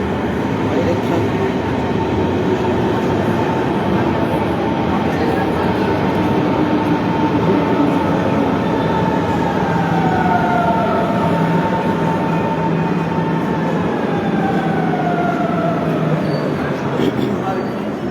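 Trains at a railway station make a steady, loud rumble that runs throughout, with drawn-out tonal squeals sliding across it. Faint voices sit in the background.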